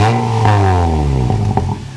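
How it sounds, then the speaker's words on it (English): An R50 Mini Cooper engine being cranked over after an oil change, running with a loud, steady revving drone and clattering mechanical bursts near the end, close to the microphone. "Right, so we'll just crank her over, make sure the oil light goes out."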